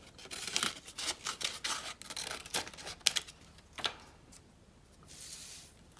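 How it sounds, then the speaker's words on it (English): Scissors snipping diagonally through paper for candy cane stripes, a quiet close series of crisp irregular cuts and rustles, then fading to a soft paper shuffle. "So you basically cut diagonally into your stripes"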